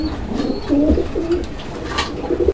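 Several pigeons coo in soft, low, rolling bursts one after another, close by, over a faint background murmur.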